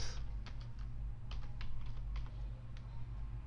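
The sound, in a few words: typing a username on a computer keyboard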